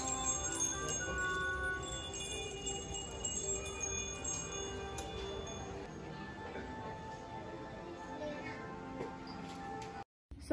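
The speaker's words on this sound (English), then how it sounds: "Some pretty wind chimes." Wind chimes ring softly in an aquarium gift shop: faint metallic tones hang and overlap for several seconds against quiet shop background, then cut briefly to silence at the end.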